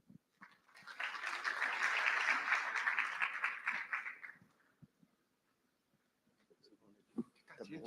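An audience at a French-language business conference breaks into applause as a managing director is introduced, a swelling burst of clapping lasting about three seconds that fades out, followed by quiet and then the start of faint speech.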